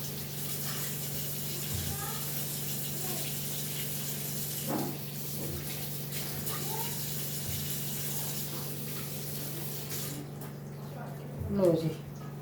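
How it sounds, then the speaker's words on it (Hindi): Tomatoes are washed under running RO-filtered tap water in a home kitchen, a steady hiss of flowing water with a low hum underneath, fairly faint and continuous while someone talks over it. "अब जी ये आरओ के पानी में धुलेगा। टमाटर भी धो धो के रख लेती हूँ।"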